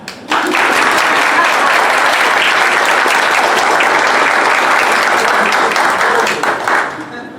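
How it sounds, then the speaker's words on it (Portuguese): An audience at an academic tribute and book launch breaks into loud, sustained applause, the dense clapping starting abruptly and holding steady for several seconds before easing off at the end. "Acho que vale palmas, né?"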